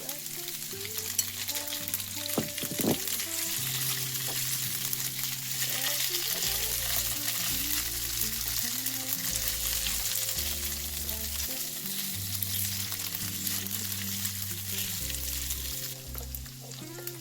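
Potatoes frying in a pan with ginger and green chili give a steady, even sizzle that runs throughout, with a few faint clinks of a utensil early on.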